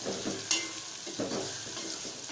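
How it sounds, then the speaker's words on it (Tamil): Chilli powder, sambar powder and turmeric get stirred into a frying dried-fish and brinjal curry, producing a continuous soft sizzle with a few scraping spoon strokes nearby and no talking. "மிளகா பொடி சாம்பார் பொடி மஞ்சத்தூள் நாம் போட்டுக்கலாம் போட்டுட்டு நல்லா கிளவி விட்டுக்கணும்"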